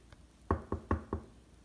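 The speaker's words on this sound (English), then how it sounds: "They are knocking on the wrong door." Four sharp knocks on a door, evenly spaced and fairly close, with no talking.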